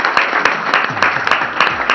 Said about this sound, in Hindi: इनके लिए बहुत सारी तालियां, बहुत सारी तालियां